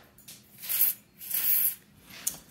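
Contact cleaner sprayed onto a passenger car motor in two hissing bursts of about a second each, then a shorter, fainter spurt. Close by, with no talk.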